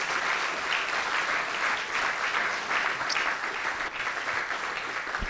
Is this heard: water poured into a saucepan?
no